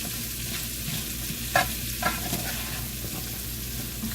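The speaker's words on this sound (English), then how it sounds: "Ooh, that sizzle." Cabbage sizzles steadily in a hot pan, a constant crackling hiss with a couple of soft clinks from stirring.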